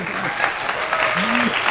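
Steady clapping from a group, fairly loud and continuous, with a voice heard over it.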